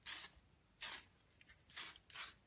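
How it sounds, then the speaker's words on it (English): An aerosol can puts a light mist coat of lacquer on a chair being repaired, giving four short, soft hissing spray bursts, quiet and close, with gaps in between. "Actually give it just a mist coat,"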